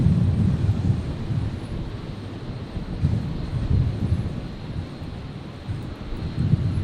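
A Qantas airliner lands on runway 01 right at Brisbane International Airport in a 16-knot north wind. Its engines give a steady, loud, broad roar mixed with wind buffeting on the microphone, with no talk over it.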